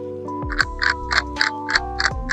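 A YJ MGC V2 speed cube being turned, giving a quick regular series of crisp clicking turns, close and fairly loud, over a steady tonal background hum.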